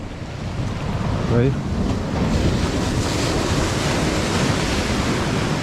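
Ocean surf breaking steadily at a coastal fishing spot, a continuous loud wash of waves with wind buffeting the microphone, and a brief spoken word over the roar.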